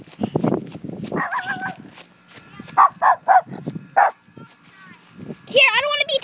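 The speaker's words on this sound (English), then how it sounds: "Oh, and that dog comes again. Oh my god, that dog better stop." A neighbor's dog barks in a string of sharp, pitched yips and bow-wows, fairly close, mixed in with people talking outdoors near a golf cart.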